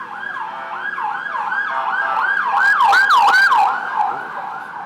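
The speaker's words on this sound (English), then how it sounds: "Let's just wait until this ambulance has gone past." A wailing ambulance siren on the main road through Kamala Beach cycles up and down repeatedly, growing louder as it passes close by, then fading slightly as it moves away, with traffic rumble beneath.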